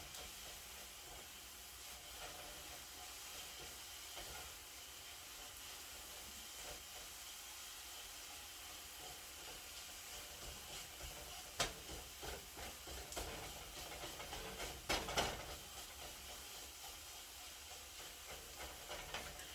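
Shredded coconut with water cooking down in a pan while being stirred, a steady quiet hiss and sizzle throughout with a few scraping clicks and bumps near the end, no talking.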